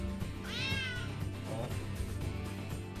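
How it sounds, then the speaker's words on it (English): A single cat meow, high and slightly drawn out, followed by a softer second mew over a steady low background hum. "Ha, it's a cute kitty."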